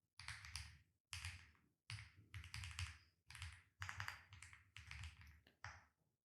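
Someone types a web address into a Chrome browser address bar on a computer keyboard: quiet, close clusters of rapid key taps in several short bursts, with brief pauses between them.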